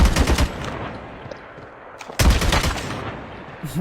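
Rapid automatic gunfire in a video game erupts in two loud close bursts separated by a brief lull, each a dense rattle of shots.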